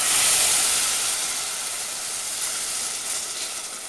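Milk poured slowly into hot flour for tavuk göğsü gives a steady, broad hiss and sizzle that starts strong and fades a little, heard alone and close.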